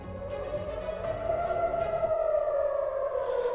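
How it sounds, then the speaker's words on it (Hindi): An air raid siren sounds across Tel Aviv, a single sustained wailing tone that rises and falls slowly, moderately loud and steady over the whole stretch. "इस वक्त तो सबसे पहले सायरन की आवाज़ आप सुन ही सकते हैं।"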